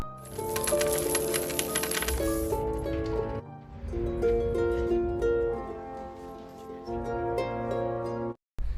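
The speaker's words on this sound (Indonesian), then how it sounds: "uang koin pun disebarkan oleh Safiye Sultan kepada para selir, dan para selir pun dengan senang hati memungut koin-koin itu" Showers of coins scatter and clink for several seconds, a dense bright metallic jingle that thins out into scattered individual drops, with a brief gap near the end.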